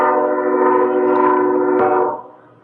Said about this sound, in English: I'm going to apologize for the train going by right now.